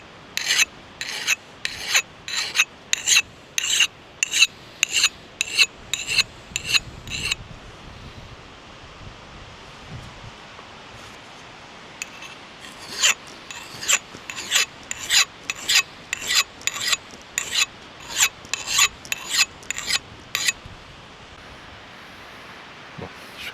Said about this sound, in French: si vous avez des petites ébréchures comme ça, ben l'idéal, c'est à la lime